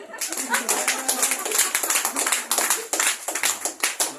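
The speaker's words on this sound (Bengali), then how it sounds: "জোরে একটা হাত তালি।" Audience clapping at a talk on diabetes: a burst of brisk, fairly loud hand claps from a crowd, dense and irregular, lasting about four seconds with no speech over it.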